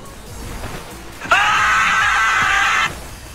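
A loud, sustained shriek from the scream mode in Fortnite bursts in after a quiet stretch, holds steady for about a second and a half, then cuts off abruptly.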